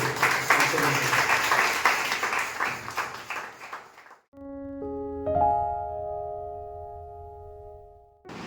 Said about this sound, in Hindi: आइए एक उत्तम ताली केवल प्रभु यीशु मसीह के लिए।